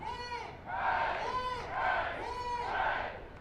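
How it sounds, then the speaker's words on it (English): A team of players at an Australia versus Japan WFDF ultimate frisbee test match shout three loud, rhythmic cheers for the crowd, each a rising group yell about a second apart, close and unaccompanied. "now can we have 3 massive cheers for the crowd?"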